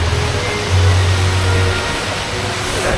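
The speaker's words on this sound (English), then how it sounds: "Look at this waterfall." Waterfall at Asiatique, the riverside night market in Bangkok, gives a steady broadband rush of falling water that holds evenly for the whole stretch, with a low hum underneath and no talk over it.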